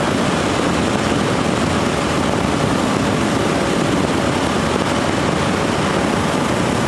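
A Kawasaki Ninja 650 motorcycle cruises at 4,500 RPM near 100, its engine drone blended with a loud, constant roar of wind across the whole stretch, steady and unbroken.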